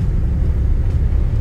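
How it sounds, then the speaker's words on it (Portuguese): A Chevrolet S10 pickup truck spinning its wheels, a steady, loud, low rumble that holds evenly for the whole moment with no talk over it. "a caminhonete tá patinando as rodas"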